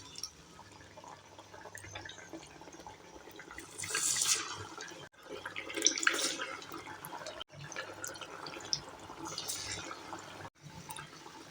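Puffed rice vadas dropped into hot oil on a medium flame, with a steady close hiss and bubbling sizzle that swells in bursts with each added piece, broken by brief pauses.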